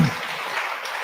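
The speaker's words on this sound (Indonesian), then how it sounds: "Tepuk tangan dulu." An audience claps together, a dense burst of applause heard at moderate volume in a lecture hall, lasting about a second.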